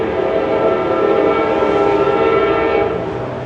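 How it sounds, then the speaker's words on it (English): An Amtrak train rolls loudly and continuously past a downtown Royal Oak, Michigan station, a heavy rumbling roar filling the whole stretch without a break. "I think that's the Amtrak train"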